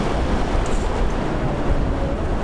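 Waves breaking against a rocky shoreline in Melbourne, Australia, a steady close roar of surf with wind buffeting the microphone, no voices.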